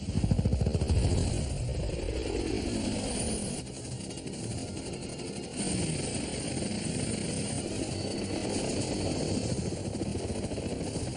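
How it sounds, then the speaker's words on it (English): Approaching Air Force helicopters make a loud, steady roar, rotor chop and engine drone continuing throughout with a brief dip midway. "Air Force choppers are closing in on his position."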